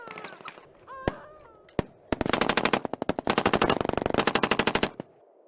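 A few isolated shots ring out, then rapid bursts of automatic gunfire crack loudly in quick, repeated volleys before stopping abruptly.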